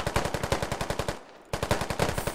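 Rapid automatic gunfire in the tactical shooter game Squad, loud and close, with steady bursts of evenly spaced shots that stop briefly and then resume.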